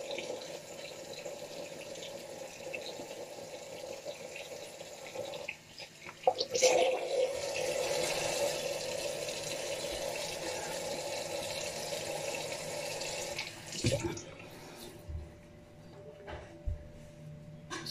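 Water runs steadily from a tap to wet a face before shaving, a continuous close hiss that surges louder midway and then cuts off, leaving faint drips and handling.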